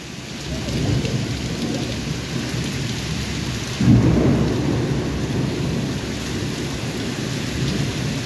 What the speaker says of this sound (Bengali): বৃষ্টির সাথে আকাশেরও খুব গর্জন